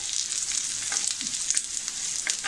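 Ten to twelve garlic cloves and ginger sautéing in a pan give a bright, close, continuous hissing sizzle with small crackles throughout.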